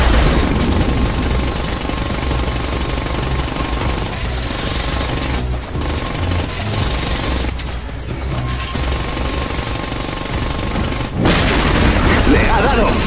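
Sustained, loud gunfire fills a firefight in the military shooter Ghost Recon Advanced Warfighter 2: dense automatic bursts and heavy booms continue almost without a break, with brief lulls before the barrage resumes.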